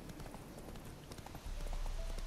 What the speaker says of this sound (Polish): To jest pełen sprint.